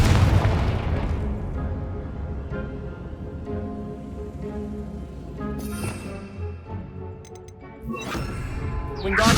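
Confringo blasting spell exploding in Hogwarts Legacy, a loud booming blast at the start that rolls away into rumbling debris, followed by further crackling bursts and a swelling magical whoosh near the end.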